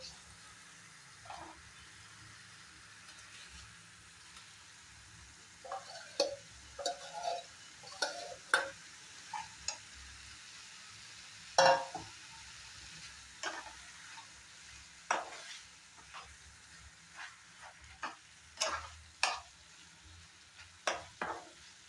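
Boiled eggs and potatoes coated in chili powder frying in a pan, a soft low sizzle under scattered clicks and scrapes of stirring, with a voice speaking faintly at times.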